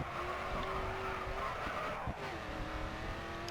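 A race car brakes hard and skids in the Grid 2 racing game, tires squealing in a sustained slide under engine drone, with a brief jolt partway through.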